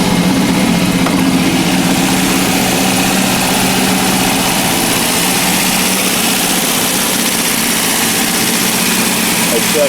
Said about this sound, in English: It seems to need to warm up a lot before it'll idle with no choke.